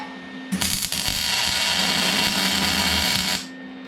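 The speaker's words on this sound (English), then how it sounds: "I'm literally just gonna weld this." Scrap metal for a makeshift rocket stove being welded with no prep: a sudden, loud, steady crackling buzz that runs about three seconds before cutting off abruptly.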